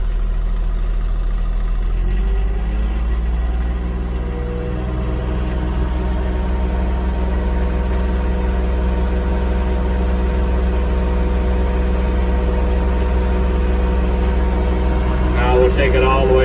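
A John Deere 1025R compact tractor with a Mauser cab drones steadily at raised engine speed around 2,500 RPM, a constant low hum with harmonic tones that climbs slightly after a couple of seconds and holds.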